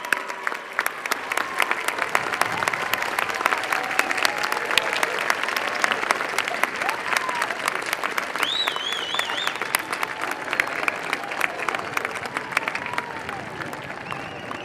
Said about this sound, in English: please turn around and show your appreciation to those who are here with you with a round of applause